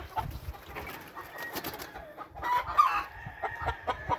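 A rooster and hens clucking and squawking nearby, with scattered calls rising to a louder burst midway as the rooster attacks, amid outdoor background noise.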